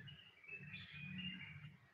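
A female blue magpie (cucak biru), under a year old and already carrying nesting material, gives a steady, moderately close run of high, thin calls over a low cooing tone, with no talk.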